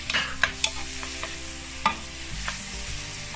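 Chicken and tomato fry together in a pan for chopsuey, a close constant sizzle punctuated by a few sharp spoon taps and scrapes, with a low hum underneath.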